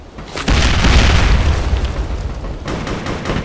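A loud bomb explosion in the District 187 shooter game, a deep booming blast that hits hard after a brief lead-in and rumbles on as it slowly decays.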